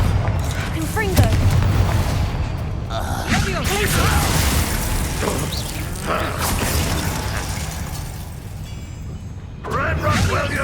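A Confringo blasting spell in the combat of the video game Hogwarts Legacy bursts out as repeated booming, crackling blasts amid steady battle noise, with loud swells and short surges across the fight.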